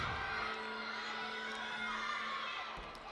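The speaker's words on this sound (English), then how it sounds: "The crowd is excited." An arena crowd at an Illinois at Nebraska gymnastics meet cheers and whoops after a balance beam routine. The roar is dense and sustained, with a few shouts rising above it.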